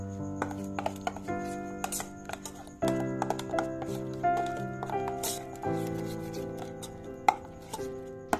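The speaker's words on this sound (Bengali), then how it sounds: "এই সমস্ত কিছু উপকরণ আমি ভালো করে ফেটিয়ে নেব।" A whisk or spoon beats mustard oil with ground spices in a metal bowl for steamed hilsa, producing rapid, steady clinking and tapping strokes against the bowl, close and continuous.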